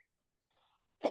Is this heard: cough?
yes